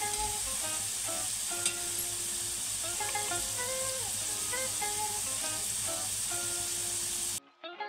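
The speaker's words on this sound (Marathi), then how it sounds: "थोडी ब्राउनिश होईपर्यंत आपल्याला ना त्याला व्यवस्थित फ्राय करून घ्यायचंय" Potatoes fry in a pan for dum aloo, browning in a close, steady sizzle with faint stirring clinks, alone without talk, and cutting off abruptly just before the end.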